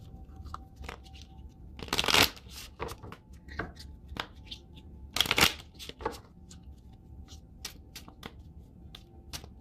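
Synchronicity Oracle cards are shuffled by hand in repeated bursts of riffling and sliding, with two louder riffles standing out among softer taps and shuffles, close and alone.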